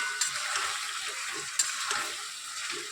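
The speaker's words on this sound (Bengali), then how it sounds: "এবার একটু নাড়াচাড়া দিয়ে নিই, মিশিয়ে নিই।" Chicken masala with chili powder sizzles in a pan. A steady frying hiss runs throughout, with soft stirring and scraping in between and a couple of sharp clicks.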